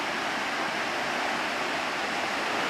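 Steady, full roar of cascading water from a waterfall in a lush southern German forest, constant broadband rush close by with no voices.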